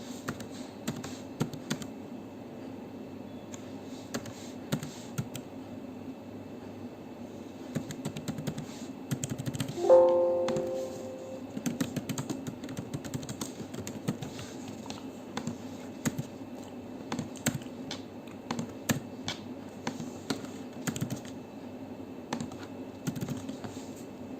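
Steady typing on a computer keyboard while a tax ID number is entered into tax-invoice software, a run of close, quick clicks with brief pauses and one louder tap midway.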